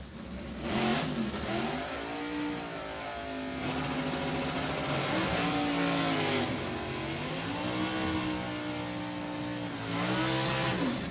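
Stock cars with clutch pedals running a heads-up drag race at a track, engines droning and revving loudly with rising and falling pitch as they accelerate, a sustained roar filling the whole stretch without audible talk.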